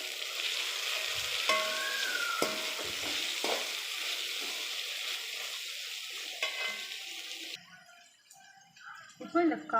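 Capsicum, carrot and beans fry in a pan with a steady close sizzle and scattered stirring scrapes, fading out near the end as a voice speaks.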